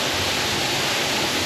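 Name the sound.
waterfall in the Arkansas Ozarks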